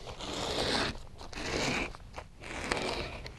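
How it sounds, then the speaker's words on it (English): A razor blade slices strips of headliner material for a classic VW Beetle, giving three long, close rasping cuts with short pauses between them and no talking. "So I start cutting some strips."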